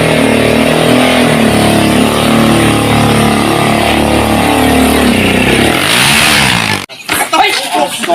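A motorcycle roars past up close, loud and continuous for several seconds before cutting away abruptly, with people talking over it.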